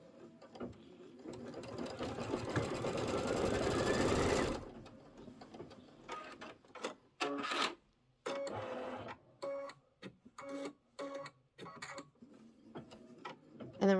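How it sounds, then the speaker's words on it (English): An embroidery sewing machine stitching a Kimberbell seasonal table runner, first a fast continuous whirring run, then short stop-and-start bursts of stitching with quiet gaps between them, close and clear. "I'm going to let it sew that whole side"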